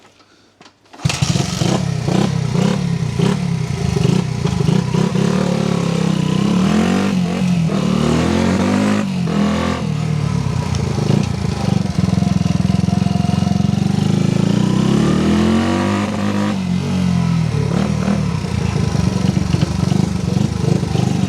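A restored Honda XR-75 motorcycle engine starts after a second of quiet and runs loud and close on a test ride, a steady buzzing drone with rising and falling revs throughout.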